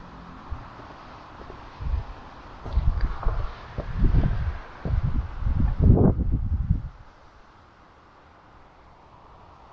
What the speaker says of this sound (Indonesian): Oh iya, angin ini.